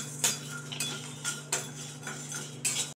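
Whole spices dry-roasting in a hot, oil-free pan, stirred with a utensil: a steady low hum under a series of sharp clinks and scrapes of metal against the pan, about six distinct knocks spaced through the stretch, fairly close.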